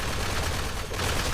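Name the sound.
Shredder minigun firing at gunners in Fallout 4 video game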